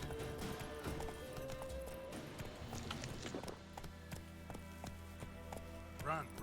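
Roach the horse gallops in The Witcher 3 with a steady run of hoof clip-clops over game music and ambience, with an occasional snort-like burst near the end.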